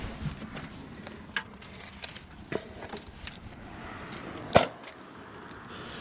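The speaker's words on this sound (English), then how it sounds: "I'll just get the keys and open some of the outside compartments as such." A set of keys for a 2000 VW T4 Autosleeper Gatcombe camper jingles in scattered short metallic clinks close by, with one sharper rattle near the end against a quiet outdoor background.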